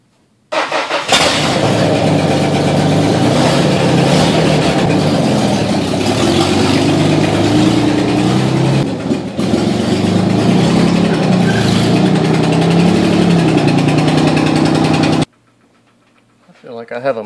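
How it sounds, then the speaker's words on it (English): A Ford Mustang with a 3.8 V6, running with no exhaust or intake, roars loudly and steadily as it backs up, with a brief dip midway before the engine cuts off near the end. "so time to back up the car"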